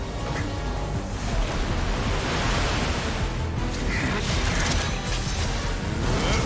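Steady rushing water in Fontaine from the game Genshin Impact, a continuous loud wash with a creaking, churning texture and no talk over it.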